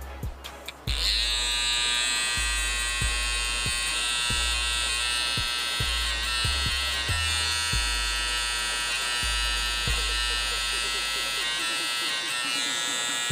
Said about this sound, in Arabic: راح نجيب ماكينة بيبيليس تبع التحديد، راح نحاول نحدد من هون.